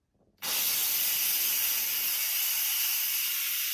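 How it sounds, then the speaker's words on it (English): A soft click and then a forceful burst of steam venting from an Instant Pot on quick release, a loud, steady high hiss that carries on unbroken without any voices. "I'm going to quick release the steam."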